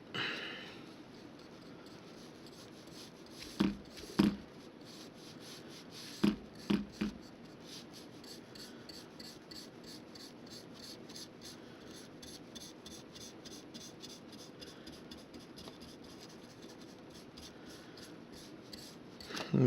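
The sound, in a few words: paint brush slopping paint onto particle board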